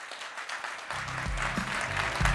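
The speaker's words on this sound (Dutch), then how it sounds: "Een applaus voor notaris Mark Neven van Bakker en Neven Netwerknotari" An audience at an evening business awards ceremony applauds, a dense patter of clapping with a few heavier claps building slightly over a couple of seconds.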